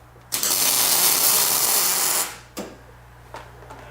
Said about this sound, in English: Anyway, I got to clean the nozzle.